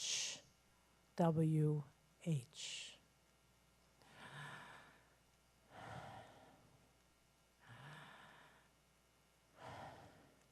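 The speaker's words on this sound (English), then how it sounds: "It's the sound of breathing." Slow, deliberate breaths in and out demonstrated during a church service, several audible exhalations and sighs spaced a couple of seconds apart, close and soft, with a voiced gasp early on.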